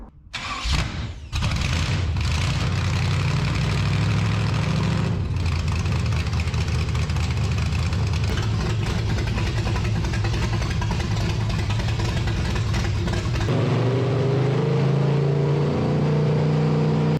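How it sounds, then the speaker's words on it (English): An old 1946 Chevy rat rod engine cranks and starts, then revs loudly and steadily, the pitch shifting as the speed changes, with a drop in rpm near the end. "Old Bill revved her up"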